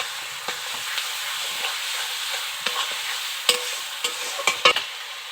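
Ginger-garlic paste sizzles and spits steadily in a hot pan while a spoon stirs it, with a few sharper scraping clicks near the end.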